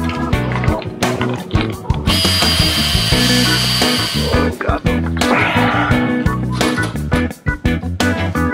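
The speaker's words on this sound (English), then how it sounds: "He goes back to installing the new bracket, beginning with drilling the first hole needed." A power drill whines loudly up close, revving in bursts and bogging as it bites into material on a sailboat while mounting a bracket, with short pauses between runs.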